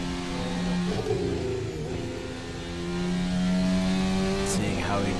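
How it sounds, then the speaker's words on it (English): Onboard roar of a racing car's engine at the Red Bull Ring, a loud continuous tone rising and falling through gear changes, with a sharp shift near the end. "Go on board with Colin Edwards and hear the roar"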